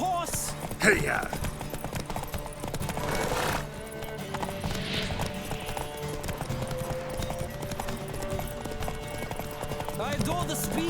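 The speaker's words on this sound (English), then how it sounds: "Don't spare the horse! Hey-ya!" Horses gallop in a race through The Witcher 3, hooves drumming steadily at close range under busy game music, with a rider's shout and a brief whinny near the start.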